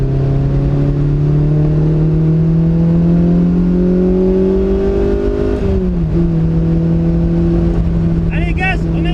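A car on a track during a driving lesson accelerates hard, its engine note climbing steadily, then dropping briefly at a gear change before pulling again, loud and close from inside the cabin.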